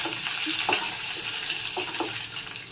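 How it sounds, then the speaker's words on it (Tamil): A spiced mixture with green chillies roasts in a pan for a savory rice-flour dumpling, giving a continuous sizzling hiss with a few soft scraping stir sounds, no voices. "இப்போ இது நல்லா வறுப்பு எடுத்துக்கலாம்"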